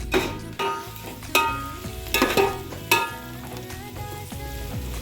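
Onions roasting in a hot pan sizzle steadily, with a few sharper scrapes and clatters of stirring cutting through the constant frying hiss, close up with no talking.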